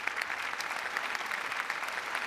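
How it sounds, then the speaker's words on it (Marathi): Applause from a studio audience on a Marathi comedy show welcoming a village sarpanch, steady many-handed clapping with a crisp, even texture, sustained throughout at moderate distance without clear talk. "असं त्यांच्याबद्दल जोरदार टाळ्या झाल्या पाहिजेत"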